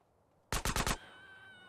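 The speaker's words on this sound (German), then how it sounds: "So schieße ich schon mal." Gunfire in the video game GTA San Andreas Definitive Edition: a quick burst of four loud, evenly spaced shots, followed by a faint ringing tail against quiet game ambience.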